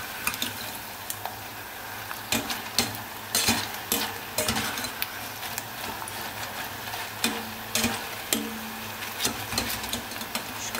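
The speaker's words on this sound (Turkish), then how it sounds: "Bunu da kızartıp hemen maydanoz ve soğanla karıştıracağım." Food frying in oil with parsley and onion, stirred in the pan: a constant close sizzle with repeated scraping and clacking strokes of the utensil at an irregular pace.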